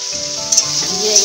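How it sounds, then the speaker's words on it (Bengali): Potatoes frying in a pan for vegetarian alu posto give a brief, steady, close sizzling hiss with faint stirring bumps. "এটা আমার একটু ভাজা ভাজা মতন হয়ে যাচ্ছে।"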